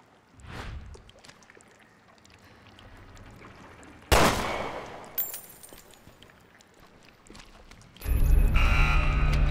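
Gunshots fired at an out-of-reach key in the video game Resident Evil Revelations 2 on Nintendo Switch: a faint early shot, then a loud sharp blast with a ringing tail, and a harsh, noisy burst near the end.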